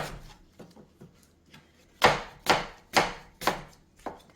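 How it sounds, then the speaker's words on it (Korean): A kitchen knife cuts cabbage into thick julienne strips for a cabbage and apple salad: a few soft taps, then five loud, evenly spaced chopping thuds on a board, close and clear. "이렇게 해서 채 썰어 주시면 되는데 이거는 너무 가늘게 말고 조금 약간 도톰하도록 이렇게 채를 썰어 주시면 돼요"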